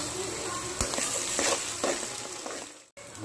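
Curry leaves hit hot oil for an Andhra ridge gourd and prawn curry, giving a close, bright sizzle with short bursts of spattering and a brief near-silent gap late on.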